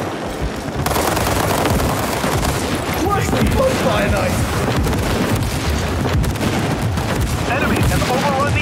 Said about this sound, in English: Enemy artillery fire incoming.